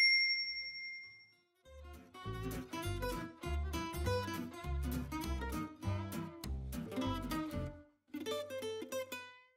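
Bright bell dings for a subscribe reminder open the sequence, followed by a busy run of chiming, plucked musical tones with a steady beat, loud and alone with no voices.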